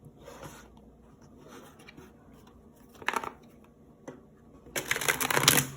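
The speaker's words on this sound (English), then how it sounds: "We're going to do just a few shuffles here" Tarot cards shuffled by hand for a reading, heard as a few close riffling bursts, one short flurry midway and a longer, louder run near the end over a quiet room.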